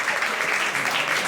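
An audience at a Karagiozis shadow-puppet show breaks into brief, dense applause, a close, even patter of clapping with no pauses.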